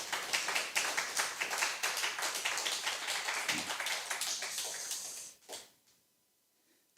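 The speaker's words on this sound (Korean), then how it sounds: "영광의 박수 한번 올려드리고" A church congregation claps at a Sunday harvest thanksgiving service, a close, rhythmic burst of many hands for about five seconds that stops abruptly, leaving near silence.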